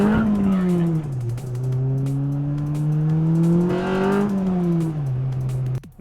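Honda-powered classic MINI and turbocharged new MINI launching side by side in a drag race; loud, close engine roar climbs in pitch, drops briefly at gear changes, then climbs again before cutting off near the end.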